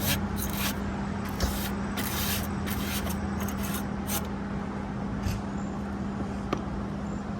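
A brush scrubs accumulated dust out of an RV rooftop air conditioner unit in close, steady bristly strokes over a constant low mechanical hum.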